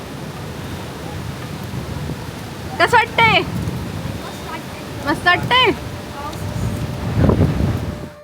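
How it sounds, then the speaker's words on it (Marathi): A monsoon-swollen stream rushes hard beside a temple, a broad steady roar of water close by, with a few short bursts of conversation and some wind buffeting over it. "मस्त ओढा वाहतोय आणि खूपच जोरात खूपच जोरात प्रवाह आहे"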